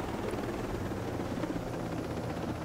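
A helicopter in the video game Ghost Recon Breakpoint produces a dense, continuous rotor and engine roar that stays loud and even throughout.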